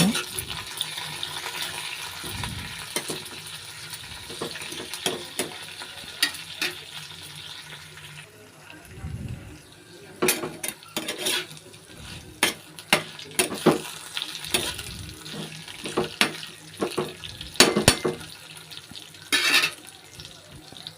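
Cumin seeds and spices fry in oil in a pan on a low flame, a soft steady sizzle broken by frequent clanks and scrapes of a spoon stirring against the metal.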